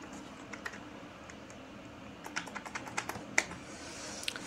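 Someone types a search into a trading platform on a computer keyboard, starting with a few soft, sparse keystrokes and building into a quicker burst of sharp, close clicks toward the end.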